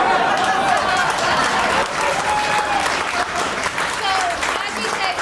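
Steady, dense audience applause fills the whole stretch, many hands clapping at once with a continuous loud wash and no pauses.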